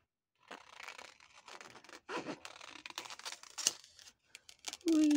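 Scissors fussy-cutting paper butterflies for junk journal ephemera, heard as close, soft snipping, rustling and crinkling paper in short irregular bursts with no talk.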